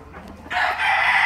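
A fighting rooster crows once, loud and close, a bright sustained call rising abruptly after a brief quiet moment with faint background noise.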